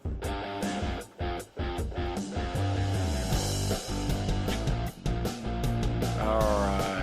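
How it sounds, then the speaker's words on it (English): Upbeat rock and roll jingle music plays steadily with full band instrumentation, loud and continuous, with a brief dropout near the start. "So that is the sound of the"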